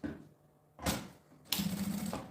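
A sewing machine stitches a seam on a school bag in two short, fast, rattling runs: a brief burst, then a longer one. It is fairly quiet and close, with no talking.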